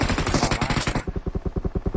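Rapid automatic gunfire from a video game rattles continuously, starting as a dense loud burst and then settling into evenly spaced, punchy shots.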